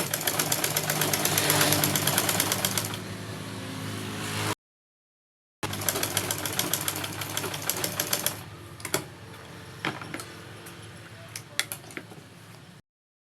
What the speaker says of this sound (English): I did my sewing